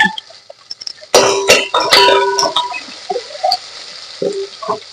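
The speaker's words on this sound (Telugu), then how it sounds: "ఒక్క రెండు నిమిషాలు వేగనిద్దాము" Spices crackling in a hot pan for the tempering of Telangana-style pappu charu, after a dried red chilli goes in, with a sudden burst of sharp, sputtering sizzles that gradually thins to sparse pops; no talking.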